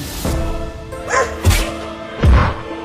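A cartoon dog barks in three separate loud, sharp yelps spaced about a second apart, each with a brief thump under it, over a faint background tone.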